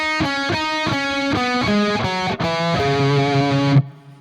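Heavily distorted electric guitar rips through a metal lick built on rapid triplet runs, loud and aggressive, shifting pitch in quick repeated groups before cutting off abruptly near the end, with no talking.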